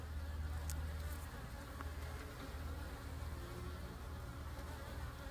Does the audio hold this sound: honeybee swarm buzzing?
yes